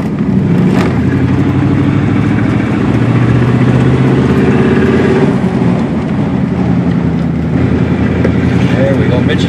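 Engine of a 1937 Ford car running while driving, a steady loud low rumble with shifting pitch throughout, and someone talking over it.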